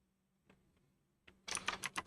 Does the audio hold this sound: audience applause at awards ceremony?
no